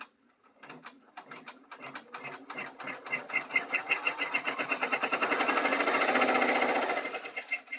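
An embroidery machine stitches a mug rug design in the hoop, starting with a few separate rapid needle strikes that speed into a dense, steady mechanical chatter at moderate volume.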